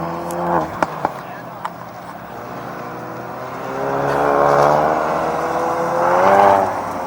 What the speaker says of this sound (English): so this is the autocross running